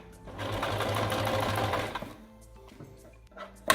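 A sewing machine runs steadily for about two seconds as it stitches the cuff of a child's school apron, then stops, leaving quiet handling sounds and a brief clack at the end.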